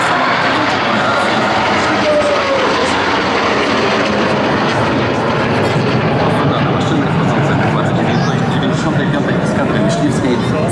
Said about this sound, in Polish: F-22 to dwusilnikowy, jednomiejscowy samolot.